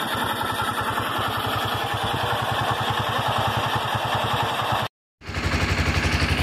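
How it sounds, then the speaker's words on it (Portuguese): A homemade motorcycle engine runs with a fast, steady, rattling chug, loud and close. It cuts out abruptly for a moment and then picks straight back up. "motorzinho feito em casa."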